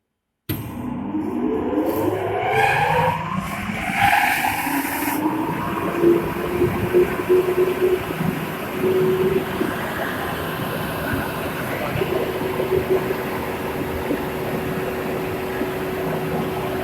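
Air rushing steadily through a duct in a flow monitoring and control rig as a butterfly valve shifts, a constant hissing whoosh with a faint hum, moderately loud and unbroken.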